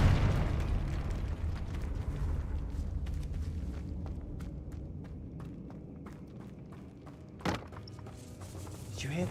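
In Hogwarts Legacy, a Confringo fire spell erupts in a loud, rumbling blast that slowly fades. A sharp impact follows several seconds later inside a tomb.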